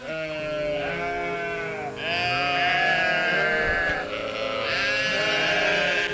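Several sheep bleat in overlapping calls on a grazing farm, a near and fairly loud chorus of wavering cries that rises and falls in waves, with no talk over it.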